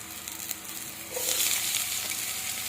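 Garlic and onion drop into a hot pan for squid adobo, and a quiet background turns into a sudden bright, steady sizzle that carries on alone.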